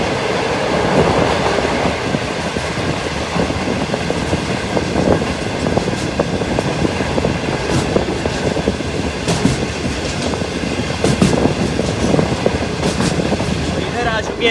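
Pakistan's Green Line Express, riding out of Rawalpindi, carries a steady wheel rumble with repeated clickety-clack rail joints from inside the passenger car, and a voice speaks over it at times.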